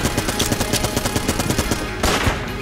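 Rapid gunfire from a gun in the video game Enter the Gungeon: a dense, steady stream of repeated shots that runs the whole time, with a louder burst near the end.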